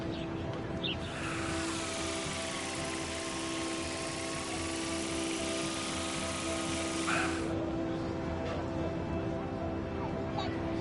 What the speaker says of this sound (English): give the drone a whirl around campus